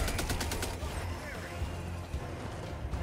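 In Helldivers 2, rapid automatic gunfire rattles in a fast burst against a robot drop ship, then gives way to the low rumble of battle while a person talks over it.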